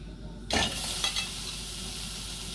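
Sliced Dubai pumpkin dropped into a dry pan with no oil, raising a sudden close hiss that settles into a steady bright sizzle, with a faint scrape or stir about halfway through.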